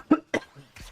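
Two short, sharp coughs close to the microphone, a fraction of a second apart, followed by a fainter throaty sound.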